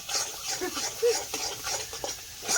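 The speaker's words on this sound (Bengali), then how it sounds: "মশলাটা ভালো করে কষিয়ে নিয়েছি" Spice paste for a prawn curry being sautéed in a pan, with scraping stirs and a soft frying crackle that come and go in short bursts, near and moderately loud.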